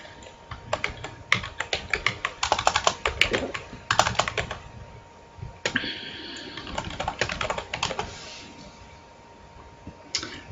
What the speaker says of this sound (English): I'll even type that in right now.